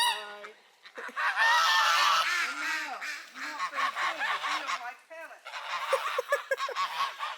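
Juvenile geese honk loudly and repeatedly, a dense chorus of raucous calls close by with a brief lull midway, while people talk faintly underneath.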